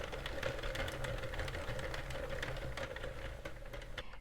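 A Sentro or Addi knitting machine is cranked, a faint steady mechanical whir with quick ticking clicks repeating evenly throughout.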